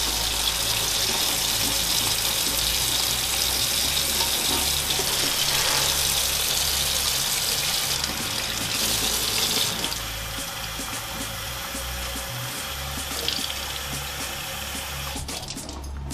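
Tap water runs steadily and continuously into the clean water tank of a Tineco iFloor One S3 cordless hard floor cleaner, a close rushing splash whose tone shifts slightly as the tank fills, with no talking.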